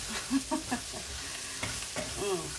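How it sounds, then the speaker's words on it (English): Smoked sausage and potatoes sautéing in a pan, with a soft continuous sizzle and a few brief tonal scrapes and clinks as they are moved around, no speech. "I'm just going to let these saute around, y'all, for just a few more minutes"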